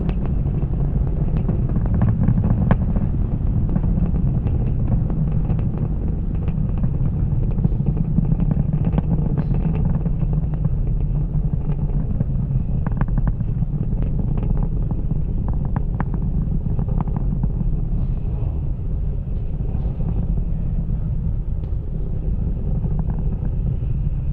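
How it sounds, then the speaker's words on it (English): A SpaceX Falcon 9 rocket climbs through supersonic flight after launch from the Florida space centre carrying Starlink satellites. Its roar is a constant, heavy low rumble with wind buffeting, distant but powerful and unbroken. "Falcon 9 is supersonic"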